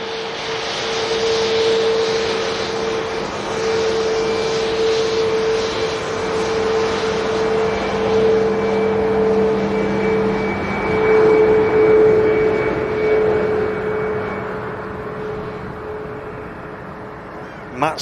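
A Ryanair Max jet airliner taxis past at Manchester Airport with a loud, sustained engine whine and roar that swells and fades slightly, while a voice talks over it.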